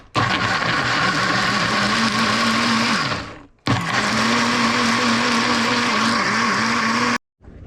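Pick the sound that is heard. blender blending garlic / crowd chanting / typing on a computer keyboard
blender blending garlic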